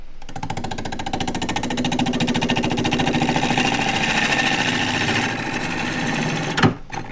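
A half-inch bowl gouge cuts a natural edge tripod bowl on a wood lathe, giving a loud, fast rhythmic chatter as the uneven rim spins past, then a sharp knock near the end.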